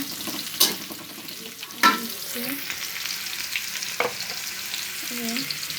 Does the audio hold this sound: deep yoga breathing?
no